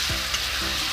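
Tomato and potato stirred into a local chicken curry as it fries in a pan, loud continuous sizzling hiss close up, with two brief low scrapes of the stirring spoon.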